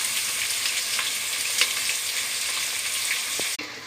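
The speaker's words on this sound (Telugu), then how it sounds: "అలా చికెన్ వేసేసుకోవాలి." Chicken fries for biryani with onions, chillies and mint-garlic paste, a dense, loud hissing sizzle close up, broken by a few pops and a brief clatter near the end.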